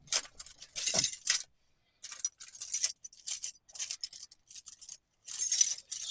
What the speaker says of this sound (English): So many keys.